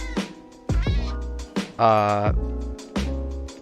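Cat meows in the video game Minecraft, several drawn-out tonal cries with short gaps between them, close and loud, heard on their own.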